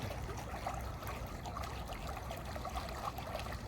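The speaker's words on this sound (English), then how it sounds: "Nice to hear that water, isn't it?" Continuous gentle trickling water in a pool area at Coral Sea Water World, steady and fairly close, with no voices.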